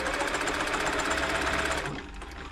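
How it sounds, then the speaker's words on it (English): An Elna Club Computer 500 sewing machine runs a straight stitch with a fast, steady, rhythmic mechanical chatter, close and loud, before stopping after about two seconds. "First of all, straight stitch."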